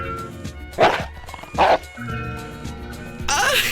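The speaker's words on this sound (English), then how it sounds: "Get away from me, you stupid dog!" Dog in the Enchanted Arms video game barking and yipping in two sharp bursts over a soft game music bed, followed by a longer rising sound near the end.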